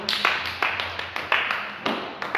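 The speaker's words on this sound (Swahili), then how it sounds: "Pigia Yesu makofi." Congregation at a church service clapping for Jesus, several bursts of hand claps in an uneven rhythm, moderately loud and fairly close, with a faint voice underneath.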